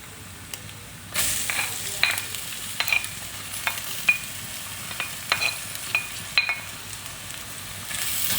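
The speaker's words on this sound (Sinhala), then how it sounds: "මේ වෙලාවේදී අපි ලුණු ටිකයි තක්කාලි ටිකයි එකතු කරගන්නවා" Onion and tomato tipped into ginger and garlic frying golden in a pan for an egg curry, a sudden rush of sizzling followed by steady frying and repeated sharp taps of a spoon against the pan, with no voices.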